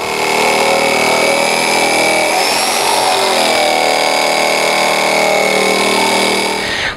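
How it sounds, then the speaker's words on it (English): A jigsaw cuts through a plastic drum, giving a loud, steady, high-pitched buzzing whine that holds close and continuous throughout. "when I'm making my cut with the jigsaw"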